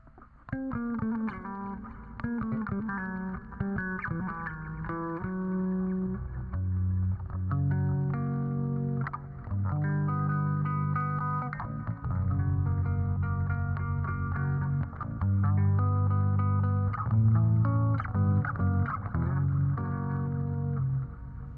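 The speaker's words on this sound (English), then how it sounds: "Like a little bit of delay and a little bit of damn reverb." Distorted electric instrument washed in delay and reverb, notes smearing and trailing into a dense, sustained wall of sound that stays loud and continuous throughout, with no voices.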